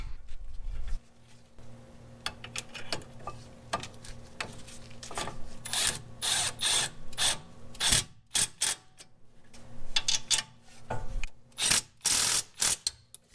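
A ratchet clicks in quick bursts of strokes, pausing and resuming, as it tightens the brake caliper mount bolts on a Mercedes, close and fairly loud.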